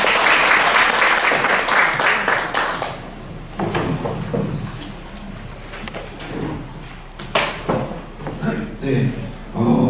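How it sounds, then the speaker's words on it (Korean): An audience at a church-related academic symposium bursts into loud applause that gradually thins into scattered claps, with some chair and movement noises and a few voices near the end. "우리 큰 박수 모시도록 하겠습니다"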